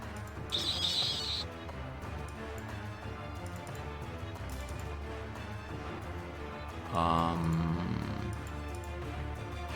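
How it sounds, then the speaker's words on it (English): A flock of birds calls in the video game Deity Empires, with a high chirping burst early on and another a few seconds later over steady background game sounds. "Perhaps this flock of birds will help us."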